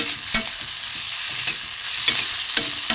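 Salted fish filling for kochuri sautéed in a pan gives off a steady, bright sizzle, broken by a few sharp scrapes and taps of the spatula as it is stirred, close by and with no talking.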